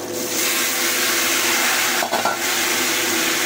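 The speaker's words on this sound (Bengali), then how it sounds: "এবার আমি সবজিটা ঢেলে দেবো।" Vegetables tipped into a hot pan of oil with fried green chillies, a steady loud sizzling hiss throughout with a brief burst of clatter and splashing near the middle, no talking.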